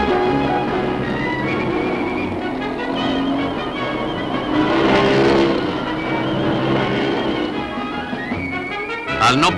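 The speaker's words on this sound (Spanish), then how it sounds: "lo demuestran estas carreras de moto sobre una pista helada." Motorcycles on special tyres race around an icy 400-metre circuit at 110 to 120 km/h, with a loud, continuous engine roar that swells near the middle.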